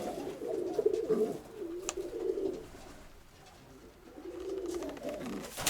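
Pigeons cooing in a breeding loft with birds sitting on eggs, soft repeated low coos rising and falling across the stretch, close by, with no talking.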